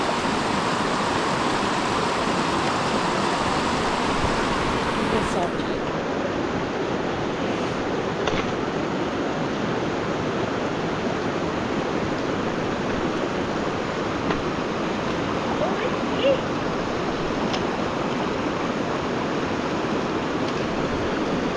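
A river on the Pacific Crest Trail rushes steadily where hikers wade across, a dense, continuous roar of flowing water close by with no voices.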